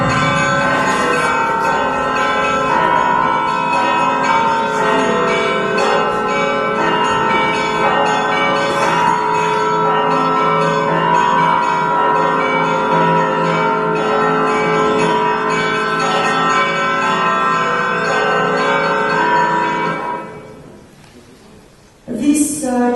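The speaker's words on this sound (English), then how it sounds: "Church bells devoted to Christmas. These sounds are supposed to scare evil spirits." Church bells ring for Christmas in a dense, continuous peal of overlapping tones, loud and sustained for about twenty seconds before cutting off abruptly.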